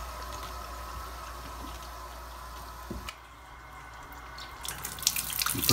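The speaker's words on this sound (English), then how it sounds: "So we're gonna turn the water on." Tap water rushes steadily through the long tubing of an iSpring RCC7 reverse osmosis filter system being flushed, a continuous close hiss that brightens and swells toward the end.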